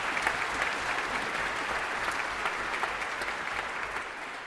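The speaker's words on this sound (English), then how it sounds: "please give a round of applause to our fantastic compere" A concert audience at a music competition final applauds its compere, a dense, steady wash of clapping from many hands that holds at full strength for several seconds, then eases slightly at the end.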